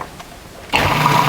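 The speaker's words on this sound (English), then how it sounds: "turn it on, and you just puree it until it's very smooth" A food processor pureeing chili colorado sauce of soaked chiles and cooking liquid switches on after a short quiet moment and runs as a loud, steady whirring motor hum.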